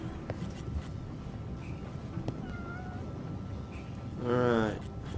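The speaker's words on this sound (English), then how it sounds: "Are you meowing?" Ike, a cat in the video game Quantum Conundrum, gives one short meow late in the moment, heard over a low hum of game ambience.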